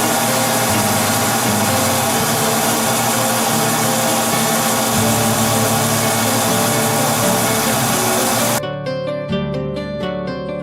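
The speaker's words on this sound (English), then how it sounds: "I've sped up the lathe. It's at around 1200 RPMs." A wood lathe spins a banyan-wood vessel with mahogany inlay at about 1200 RPM, giving a steady, loud mechanical drone with low hum until it cuts off abruptly near the end, leaving a quieter tail.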